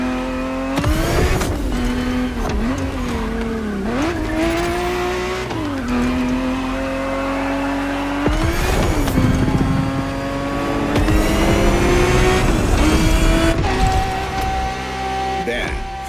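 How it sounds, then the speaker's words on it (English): A Ferrari 365 GTB4 racing in The Crew Motorfest, its engine loud and close, revving up and down through gear changes with rising and falling pitch, while a voice talks over it. "365 GTB4 is the perfect vehicle for you to experience Ferrari racing as it felt back in the 70s"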